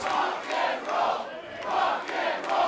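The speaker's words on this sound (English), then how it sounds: "Crowd shouting for rock and roll." A wrestling crowd at a Juggalo Championship Wrestling event chants in rhythmic surges, rising and falling in repeated waves of massed voices, somewhat distant and reverberant.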